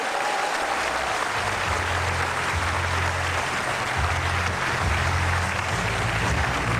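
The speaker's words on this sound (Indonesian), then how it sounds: "Tepuk tangan sekali lagi Ibu Megawati." Studio audience at an Indonesian talk show applauds steadily as former president Megawati is welcomed, a dense, sustained wash of clapping that holds at an even level for the whole span, with a low hum underneath.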